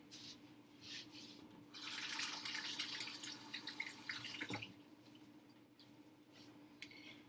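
Tap water runs into a sink while rosemary sprigs are rinsed, a soft steady stream that swells for a couple of seconds in the middle and then thins back to faint trickling and drips.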